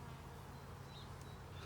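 Honeybees hum around an open hive during an inspection on a calm day, with charcoal smoke in use; a faint, steady buzzing drone runs throughout with no talk.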